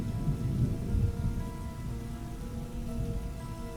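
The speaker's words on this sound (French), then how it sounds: "La pluie s'atténue" Steady rain falling on a surface with low rolling thunder from a thunderstorm, a dense continuous hiss with deeper rumbles swelling early on.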